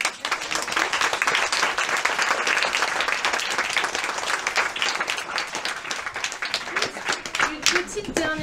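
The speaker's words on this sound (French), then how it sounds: "on peut les applaudir." Audience applause at a French talk event with comic authors, a sustained loud round of clapping from a seated crowd, steady for the full stretch with individual claps standing out near the end.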